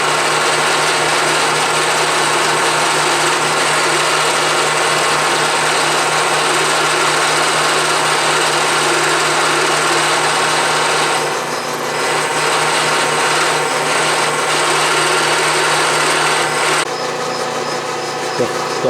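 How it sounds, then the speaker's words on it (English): An Atlas 6-inch lathe with a compound rest takes an initial oiled cut, giving a continuous loud whirring motor drone with a high-pitched hiss, steady for most of the pass with a slight change near the end. "And now with a little oil on there, I'm taking my initial pass."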